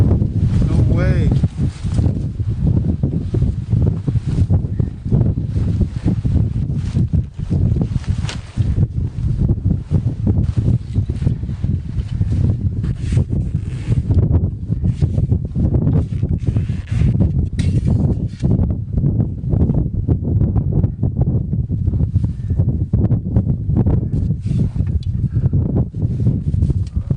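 Strong Arctic wind buffets a tent pitched broadside to it behind a snow block wall, a loud continuous rumbling roar with gusty flapping, someone speaking over it at times.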